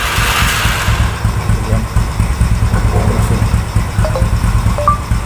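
Motorcycle engine running after a voice-command start through an Android phone, a steady close idle with a rhythmic low putter throughout and short electronic tones near the end.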